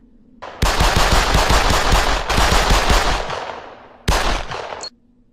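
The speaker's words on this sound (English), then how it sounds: "Testa pumped the first several shots into Narducci's face from point-blank range" Rapid bursts of close, loud gunfire crackle in dense automatic strings, two long volleys and a short final burst with brief gaps between them, no voices.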